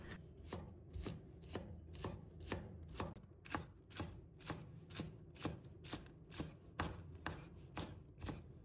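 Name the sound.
knife chopping green onions into scallion pieces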